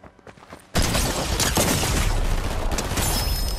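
Assault rifle fire in a multiplayer shooter game bursts in suddenly after a quiet start, a loud, sustained stream of rapid shots with booming low end that carries on to the end.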